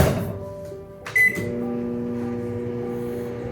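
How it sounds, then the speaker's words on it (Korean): A microwave oven hums steadily while melting soap base, a short beep or click partway through, heard close up with no talking. "저는 바로 앞에 전자레인지가 준비되어 있어서 비누 베이스를 넣고"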